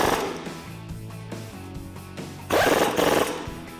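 Impact gun driving an 18mm socket to tighten a bolt while installing a leveling kit with struts on a 2004-2008 Ford F150, a loud rattling burst near the end after quieter workshop noises.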